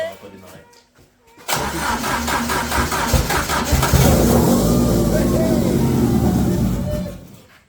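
A Citroën C15 built up to 350 hp cranks after a brief lull and bursts into life, then runs with loud, rough revving up close while voices talk over it.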